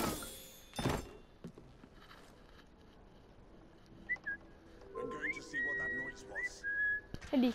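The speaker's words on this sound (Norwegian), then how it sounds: "Jeg liker veldig dette her at man kan plystre, for da får de til deg." A character in Assassin's Creed Syndicate whistles to lure enemies, giving short rising and falling whistle notes after a sharp thump, with quiet background game noise.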